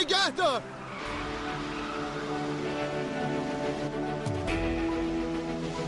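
A stolen car speeds off with a sharp burst of tire squeal and skidding, then a loud, steady engine roar that surges again near the end.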